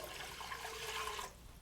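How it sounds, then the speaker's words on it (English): Three cups of water poured into a cooking pot for polenta, a steady close splashing gush that runs for about a second and then stops abruptly. "here I've got 3 cups of water, and that's going to go right now into the pot"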